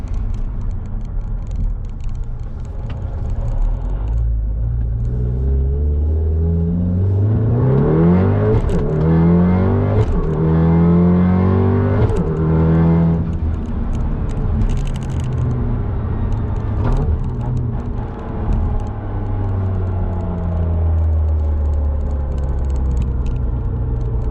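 A Mk7 Golf R with a six-speed dog box accelerates hard from inside the cabin, its engine rising through the revs with rapid shifts that drop the pitch before it climbs again, a loud continuous roar.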